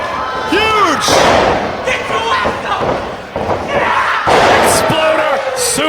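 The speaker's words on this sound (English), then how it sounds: "Exploder suplex." A wrestler is slammed to the mat by an exploder suplex in a Sammy Diaz vs. Kylon King match, a heavy thud amid a loud, roaring crowd with shouting and commentary over it.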